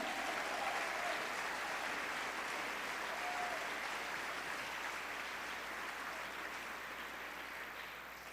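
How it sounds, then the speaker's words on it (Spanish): Steady, sustained applause from a church congregation fills the space, dense and even throughout with no talk over it. "Da un aplauso al Rey, vamos."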